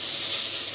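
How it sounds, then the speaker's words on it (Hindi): Fish rubbed with salt, turmeric and chili fries in hot oil, giving a steady, close, even hiss and sizzle throughout this short moment, with no voices. "ऑयल गरम हो चुका है। मैं इसमें ये मछली को फ्राई कर लूँगी।"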